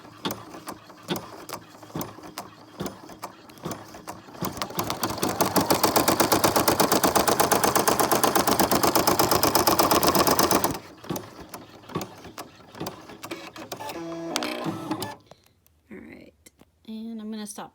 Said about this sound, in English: And when it stitches, it's gonna stitch.